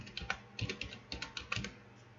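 Fingers tap out a short word on a computer keyboard, a quick, soft run of individual key clicks in an uneven rhythm, close and alone.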